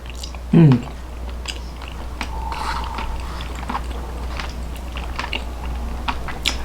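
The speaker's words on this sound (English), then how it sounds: "let's take a taste of this octopus" One close bite into octopus cooked in coconut milk makes a brief soft crunch near the start, followed by a low steady background hum and faint clicks.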